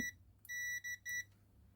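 Short electronic beeps from a multimeter continuity tester checking a cable: one brief chirp, then three quick high-pitched tones in a row, fairly faint against a quiet background.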